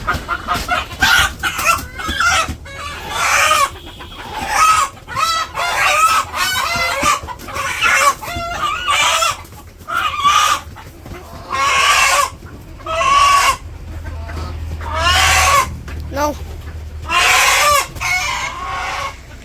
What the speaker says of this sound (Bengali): সব মুরগি লাফাইতেছে।